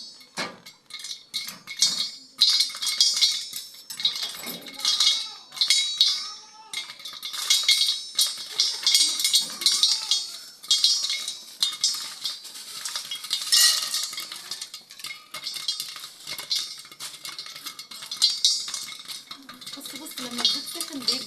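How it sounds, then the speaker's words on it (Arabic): Popcorn popping in hot oil inside a covered pot, a dense, fast, irregular crackle of pops that keeps going without a break, heard close and loud, with a little background chatter. "سمع صوت الفشار يا رب"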